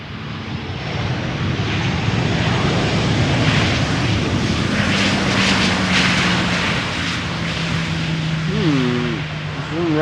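A Royal Air Maroc Boeing 737-800 arriving at Amsterdam Schiphol Airport: a broad, steady jet roar heard from a distance, sustained across the whole stretch with a faint tonal whine, and a brief chirp near the end.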